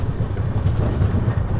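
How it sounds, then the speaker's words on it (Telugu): The Samata Express train rolls past with a loud, steady low rumble and faint rhythmic clatter of wheels over rail joints, heard alone without voices. "ఇప్పుడే మనకు ఎదురుగా చూసుకుంటే సమత ఎక్స్ప్రెస్ అయితే వస్తుంది"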